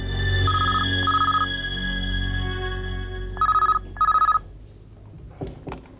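A telephone rings in two pairs of bright electronic trills, the second pair louder, over a quiet low hum before a few soft knocks.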